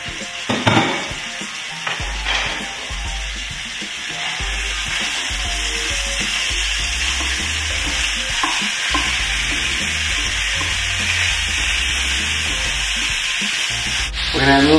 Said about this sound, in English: Now that we have it nice and hot, we're just going to add the whole meat.